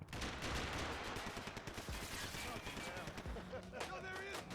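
Rapid bursts of gunfire from the Max Payne 3 video game crackle in dense, repeated volleys, with voices shouting over the shooting near the end.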